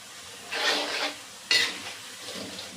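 Bajji fritters frying in hot oil over a medium flame, two bursts of bubbling sizzle swelling up close and fading, the oil crackling steadily in between.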